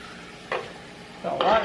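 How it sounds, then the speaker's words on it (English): Chicken sizzles in a hot pan, a soft steady frying hiss broken by a few brief bursts of louder crackle. "Yeah, I hear it sizzling."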